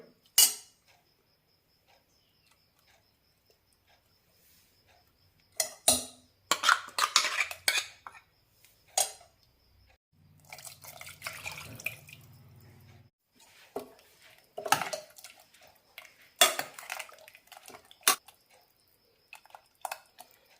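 Ground sesame paste going into a pot of bitter gourd sesame curry, with intermittent clinks and scrapes of a spoon against the pot and short stirring bursts separated by quiet gaps.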